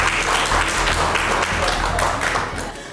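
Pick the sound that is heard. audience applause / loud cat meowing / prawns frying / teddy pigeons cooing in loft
audience applause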